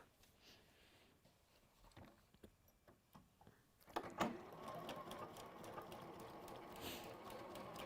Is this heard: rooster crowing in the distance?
no